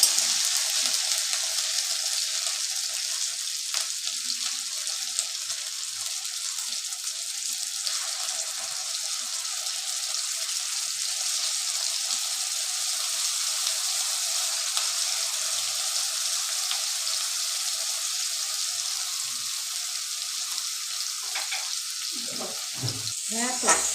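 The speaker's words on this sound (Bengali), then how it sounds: "এবার পেঁয়াজ রসুন টমেটো পেস্টটা ভালো করে ভাজবো।" Onion, garlic and tomato paste fry in hot oil for a pabda fish curry, giving a steady, close, continuous sizzle with faint stirring scrapes near the end.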